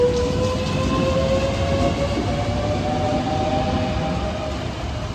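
A Class 465 passenger train rumbles steadily past with a constant roar and a faint high whine, loud and continuous throughout.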